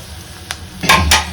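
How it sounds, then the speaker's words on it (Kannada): Curry leaves dropped into hot oil in a pan, giving two or three sharp spluttering crackles over a low background hum, close and fairly loud, with no talking. "adding curry leaves"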